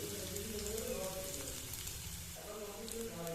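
Ingredients for vegetarian ghugni fry in a pan with a steady, soft sizzle that holds low and even throughout, no talking over it.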